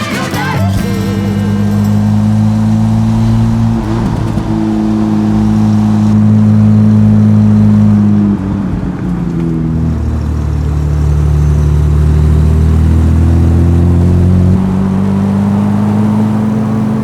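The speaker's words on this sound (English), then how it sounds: "Climbing a hill here, get the revs up. I love this engine though." A 1952 Jaguar XK120 engine revs loudly under load climbing a hill, its pitch climbing and shifting through gears, a deep continuous growl heard from inside the car.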